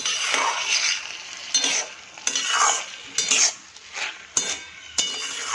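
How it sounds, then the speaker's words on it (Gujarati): Pearl millet frying in ghee is stirred steadily in a pan, with repeated scraping and clinking strokes of a spoon against the metal over a continuous sizzle. "ઘીના સાથે આવી રીતે આપણે એને ચલાવતા જઈશું જેથી કરીને બાજરી નીચે ચોંટી ના જાય."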